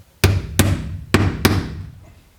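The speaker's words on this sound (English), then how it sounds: "All I do is just take a small screw and" Four sharp hammer strikes on a small screw, starting a pilot hole for a 5/8-inch lag screw while installing garage doors on a barndominium; the blows land close and loud in an uneven rhythm, then a short fading ring.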